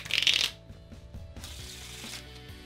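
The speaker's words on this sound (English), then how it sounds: "today I'm going to show you how to shuffle a deck of cards with the so-called indie hand riffle shuffle that looks like this" A deck of bridge cards is riffle shuffled by hand, a close, brief burst of rapid flapping clicks followed by softer tapping and handling sounds as the cards are squared.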